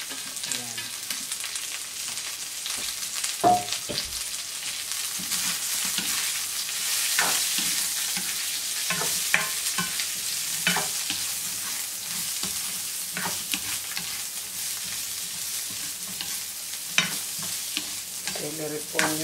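Celery and onion sizzle and fry in a hot pan while being stirred, a steady crackling hiss broken by frequent scraping and clinking of a utensil against the pan, with no talking.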